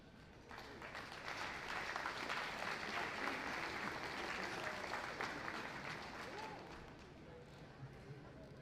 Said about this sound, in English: Let's give her another big round of applause, everybody.